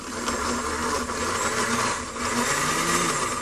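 An electric blender grinds a marinade of wine, garlic, tarragon, dill and drained apricots, a loud, steady motor whir with slight pitch shifts as the blades churn, no talking.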